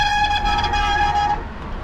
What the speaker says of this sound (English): There you go, that's the brakes.